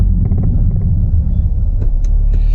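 A car engine rumbles loudly and steadily, low and close, with a brief rise in pitch as it pulls away.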